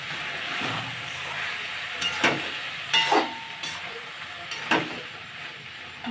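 Small puti fish and ivy gourd (kundri) cook in spice paste for a chorchori, a soft steady sizzle in a pan broken by several distinct scraping stirs of a spatula.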